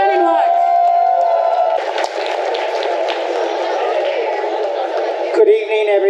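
Crowd at an outdoor Palestine solidarity march in Dublin applauding and cheering after a speaker is introduced, a dense sustained wash of clapping and cheers with a voice audible at the start and end.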